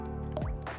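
Boxed coconut milk poured into a bowl in a home kitchen, a single short liquid pour with a drip and plop, close and quiet, without talk.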